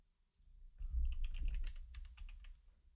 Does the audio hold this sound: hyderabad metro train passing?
no